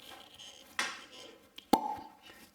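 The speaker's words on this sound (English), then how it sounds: "Extremely satisfying pop of the cork" A real cork stopper with a plastic top pops out of a bottle of Redbreast 12 Year Old Irish whiskey, one sharp close pop after a softer squeak, in an otherwise quiet room.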